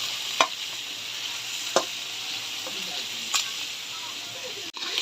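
Crushed tomatoes sauté in a pan for ampalaya guisado, a soft steady sizzle with a few sharp utensil clicks and scrapes spaced through it and a thump near the end.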